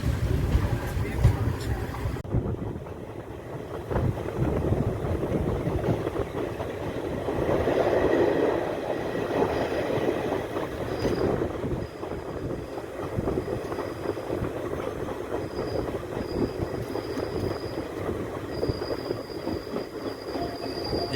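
A passenger train, a festival special between Thiruchendur and Chidambaram, rumbles steadily along the rails near Papanasam in the delta, with continuous wheel noise and occasional faint high squeals throughout.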